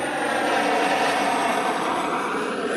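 A small private plane passes low overhead, a steady broadband engine drone that stays loud and continuous throughout with no voices over it.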